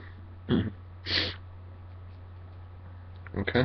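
Three short bursts of sneezing, the first two separate and a final quick cluster at the end, close to the listener over a steady low background hum.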